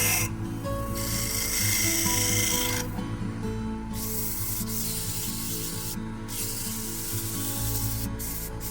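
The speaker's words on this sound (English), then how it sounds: "With the shaping complete, I move on to sanding the inside of the bowl." Continuous abrasive rubbing of sandpaper against the inside of a wooden bowl, close and steady, with brief pauses and shifts in pressure as the strokes change.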